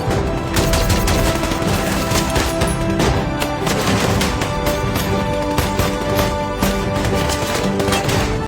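Gunfire in a fierce rooftop battle in Iraq, film sound: dense, continuous bursts of automatic rifle fire and sharp shots overlapping throughout, loud and close with rapid rattling rhythm.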